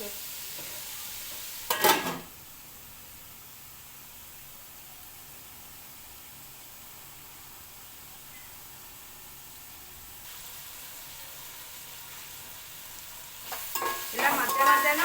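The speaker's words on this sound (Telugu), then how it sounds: "ఉల్లిపాయలను కొంచెం వేగనివ్వాలి" Onions frying in a pan for a Telugu egg curry give a steady, soft sizzle throughout, with brief louder bursts of stirring near the start and end, close by and without talk.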